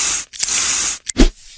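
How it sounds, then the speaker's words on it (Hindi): Synthetic spray sound effect in an animated mouth-cleaning treatment clearing fungus from an infected mouth and tongue: two loud hissing bursts, a long one followed by a short one, then a brief squishy splat. "अब देखिए स्प्रे से हम लोग फंगल को हटाएं।"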